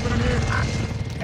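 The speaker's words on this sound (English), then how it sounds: "I've got the helicopters at me," Helicopter in Call of Duty: Modern Warfare, a close, steady rotor drone with low thumping under a voice talking over it.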